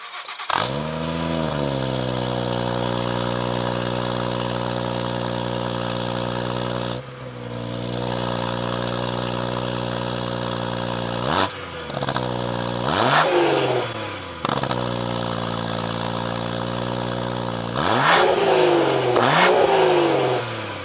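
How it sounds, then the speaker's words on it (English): A BMW 340i/440i fitted with a Valvetronic exhaust warm-starts with its valves closed, settling into a steady, deep idle drone broken by brief dropouts and a few sharp blips near the end. "What you just heard there too was just a warm start with the valves closed."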